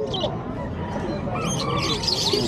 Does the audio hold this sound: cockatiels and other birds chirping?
yes